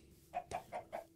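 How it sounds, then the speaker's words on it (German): Chickens in the video game Minecraft give four short, evenly spaced clucks, soft and close, with nothing else heard. "Hühner."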